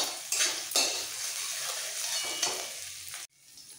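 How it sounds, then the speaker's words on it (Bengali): Ginger stirred in hot oil with asafoetida, dried red chillies and green chillies: a loud, close sizzle with repeated spatula scrapes and pan clatter that cuts off abruptly at the end. "ভালো করে তেলের সাথে আদাটাকে একটু নাড়াচাড়া দিয়ে নিতে হবে"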